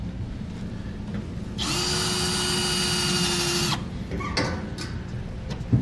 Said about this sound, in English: We can get our holes drilled out in our bed now